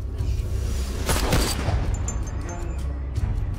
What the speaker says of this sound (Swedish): Plötsligt hörs skott.